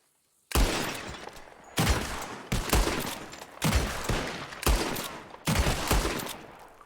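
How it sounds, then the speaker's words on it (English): Six loud gunshots in Red Dead Redemption 2, fired while shooting at bottles in the game, come in an irregular sequence, each crack trailing a short decay with no talk over them. "Who can shoot the most bottles? Just draw your gun and aim when you're ready"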